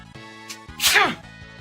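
One loud, sudden sneeze bursts out close to the microphone, short and sharp, set against a quiet background.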